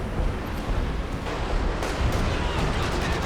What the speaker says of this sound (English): Some artillery flying both ways. The 105 artillery dropping down.